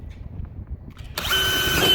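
A power drill whirs steadily, drilling a hole in a potato-growing container, after a short stretch of quiet room noise, a loud, continuous motor sound close by.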